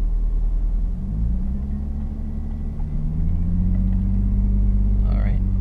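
Lexus IS300 engine revved and held around 2,000 RPM while parked, a low steady rumble that rises slightly and sustains near the listener, with speech over it.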